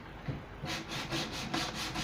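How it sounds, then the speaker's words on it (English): Steady back-and-forth rasping of sandpaper sanding excess off a wooden vanity, close and continuous, with rhythmic strokes after a brief quieter start. "I'm just sanding off all the excess"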